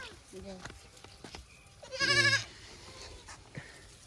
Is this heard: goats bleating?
yes